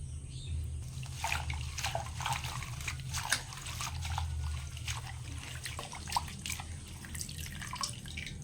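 Juice is squeezed from washed kulekha greens, a quiet run of drips and small trickles falling close by over a low steady hum, with no voices.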